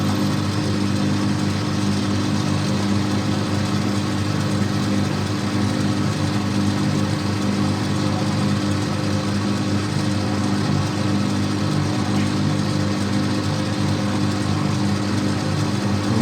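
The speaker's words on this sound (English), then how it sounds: "put the drill a bit further in" Machine drill boring through a metal bush for a motorcycle trailer fitting, a steady, loud, continuous mechanical whir with no breaks or talk.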